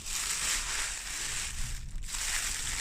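Pink tissue paper crinkles and rustles as it is pulled open inside a crochet subscription box, a close, continuous papery crackle with a brief pause partway through.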